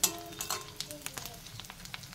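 Quiet, brief crackling sizzle of dried fish frying with green chillies and chilli powder in a pan, with soft spits and pops throughout.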